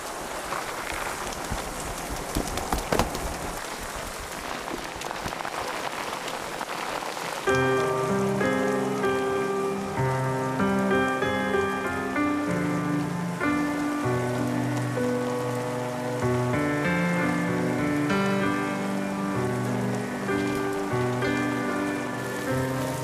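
Heavy rain pours in a dense, steady wash on surfaces. After several seconds, music swells in over it and continues to the end.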